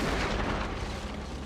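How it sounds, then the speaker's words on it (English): Gunfire in the video game Afterfall: InSanity, a dense, loud booming burst that fills the short moment and then rumbles away, with no talking over it. "that was probably a gunshot"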